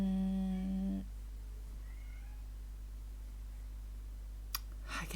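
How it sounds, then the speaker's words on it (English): A cat meows once, a clear harmonic call lasting about a second near the start, followed by quiet room hum with a faint click near the end. "I can still hear Sage meowing."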